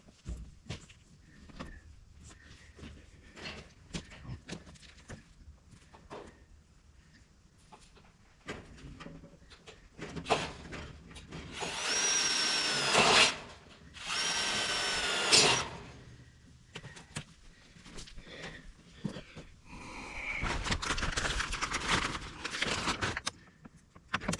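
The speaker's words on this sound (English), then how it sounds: "I need my drill" Bursts of a power drill whirring in two short runs, later another longer burst, amid clattering and handling noises while reinforcing hog panels and gates outdoors, with some bird calls nearby.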